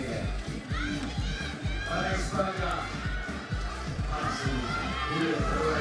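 Children in the crowd at a lead climbing semi-final in Koper shout and cheer in lively bursts, a busy mix of young voices and spectator noise running under a commentator's steady talk.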